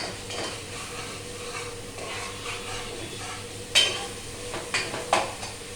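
Onions fry quietly in a pan over high heat, with a soft sizzle under a few sharp scrapes and knocks of a spoon stirring them.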